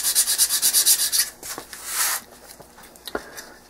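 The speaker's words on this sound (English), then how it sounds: "First thing I do is I get them roughened up with the 80 grit." Nylon hinges for a model airplane being roughened with 80 grit sandpaper: a quick run of loud, rhythmic rasping strokes, then slower, scattered scrapes and rubs close by.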